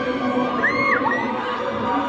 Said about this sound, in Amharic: እልልታ ይላል።